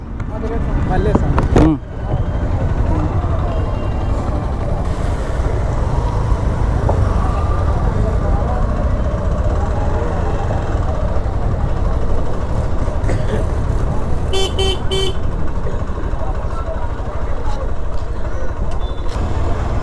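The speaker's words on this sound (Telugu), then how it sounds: "ట్రాఫిక్ మాత్రం విపరీతంగా ఉంది ఇక్కడ" Heavy road traffic roars steadily near the Sri Maddileti Lakshminarasimha Swamy temple in Kurnool on a crowded Saturday, with engines and passing vehicles, a brief knock early on and beeping horns later, under voices.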